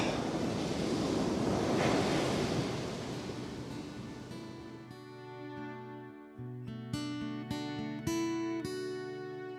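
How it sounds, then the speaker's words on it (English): Surf washes up onto a shore scattered with driftwood as the tide comes in, a loud, steady roar that fades partway through, with wind buffeting the microphone and a few sharp knocks and clicks near the end. "the waves are coming right up to this point"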